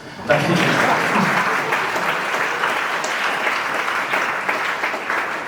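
Applause fills a room at a salon magic performance in Bad Aussee, a dense, steady clapping that starts abruptly and carries on without a break for about five seconds.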